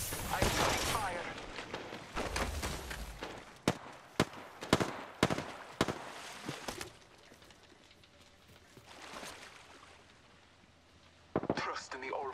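Gunfire in the battle royale shooter Apex Legends, sharp shots popping in an irregular burst over game sounds, with a further cluster of shots near the end.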